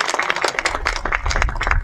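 Dense, steady clapping from a crowd at a literary museum opening ceremony in Geochang, South Korea, fills the whole stretch, loud and continuous with no pauses.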